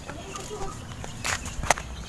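A loose baby chick on a farm gives a few brief, thin high-pitched cheeps close by, with faint rustling and movement around it.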